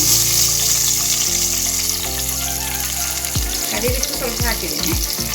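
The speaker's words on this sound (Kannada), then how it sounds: "ಇವಾಗ ಈರುಳ್ಳಿಯನ್ನು ನಾವು ಫ್ರೈ ಮಾಡ್ಕೊತಾ ಇದ್ದೇವೆ" Onions frying in ghee for a chicken sambar, a steady close sizzle with scattered stirring knocks and scrapes toward the end, with no talking.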